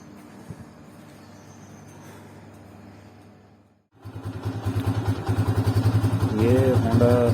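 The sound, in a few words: Honda CG 125 motorcycle engine starting and idling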